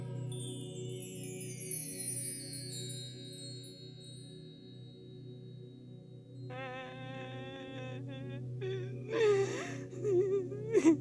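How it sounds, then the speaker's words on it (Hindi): A woman cries on stage during a Hindi school annual function play, her faint sobbing and gasping rising near the end over a sustained musical drone and tones. "ये किसके रोने की आवाज आ रही है?"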